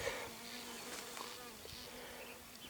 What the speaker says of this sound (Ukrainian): Але все одно бджола лазить по смолці.